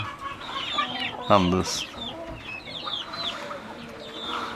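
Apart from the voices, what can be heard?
hen clucking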